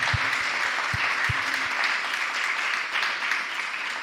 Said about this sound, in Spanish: Yo os pediría un aplauso para él, por favor.